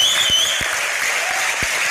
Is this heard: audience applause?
yes